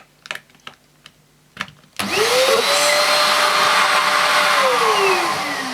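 A few faint knocks, then a Hoover Junior Athyss ST226F stick vacuum cleaner switches on abruptly and runs loud and steady, its motor whine rising in pitch as it spins up.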